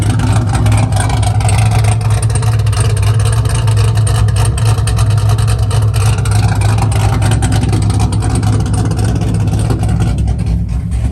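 The lopey, choppy idle of a 2002 Pontiac Firebird WS6 engine, a steady loud low throb with an uneven loping pulse running without pause, close and with no voices over it.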